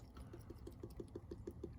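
Blue RV holding tank chemical poured from a bottle during RV winterizing, a faint, low glugging trickle with a steady rhythmic pulse, quiet and close with no talk.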